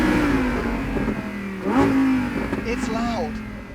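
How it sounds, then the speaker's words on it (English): A 2021 Lamborghini Huracan STO's loud exhaust roars nearby as the engine revs, rising and falling through a couple of quick throttle blips. "And that exhaust makes a bit of a ruckus as well."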